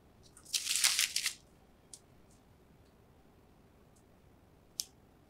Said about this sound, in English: So I'm gonna do the same cut on this one, that pinwheel cut with four spokes, which I like to do for my small round loaves.